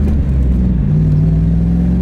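A 1992 Chevrolet Camaro RS police package V8 with a five-speed drones loudly from inside the cabin, its pitch climbing as it accelerates through the gears over a heavy low road rumble.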